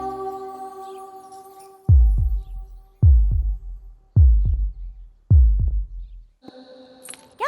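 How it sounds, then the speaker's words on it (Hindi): Heartbeat sound effect in a Hindi film scene, four deep booming double thumps at a slow steady rhythm over a soft musical hum, ending with a brighter tonal swell. "अगर ये तुम्हारे पास रहेगी तो मेरी धड़कन तुम्हें सुनाई देगी।"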